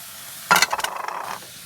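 A sudden loud sizzle as mushrooms hit a hot pan, crackling briefly and fading within about a second, close up.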